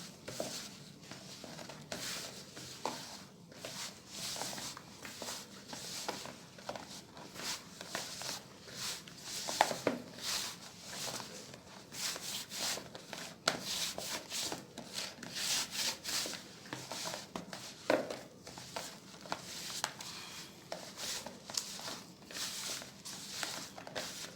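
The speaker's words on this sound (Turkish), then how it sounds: "Hamurumuzu yoğurmaya devam ediyoruz." Hands kneading balloon bread dough on a table make a steady, close rubbing and slapping rhythm that runs on and on at a moderate level, with soft thumps now and then.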